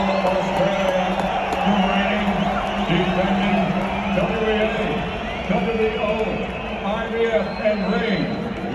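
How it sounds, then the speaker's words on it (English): A big crowd roars and whoops loudly and continuously as a fighter's name is announced at a fight event. The cheering swells without a break, with voices mixed in. "this is probably the loudest cheer of the whole day"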